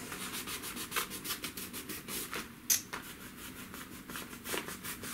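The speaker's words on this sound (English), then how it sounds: "I'm using this kneaded eraser" A kneaded eraser rubs back and forth across paper while drawing a face, giving soft, quiet strokes in a steady rhythm with one slightly sharper scrape partway through.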